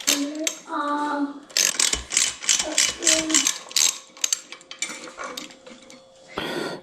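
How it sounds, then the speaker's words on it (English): A 5mm tool ratchets and clicks against an e-bike brake caliper during a hydraulic brake conversion, giving a quick, close series of metallic clicks and scrapes, with a short spoken remark at the start. "now let's loosen the cable and start pulling the caliper off"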